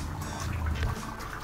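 Spring water pours steadily into a tilapia fish pond through an inlet, a continuous close splashing rush with a heavier low gush that eases slightly near the end.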